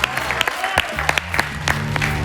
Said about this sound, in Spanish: Fuerte el aplauso para Eduardo